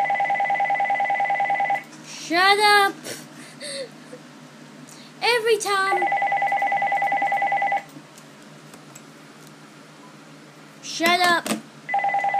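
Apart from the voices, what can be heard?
telephone ringing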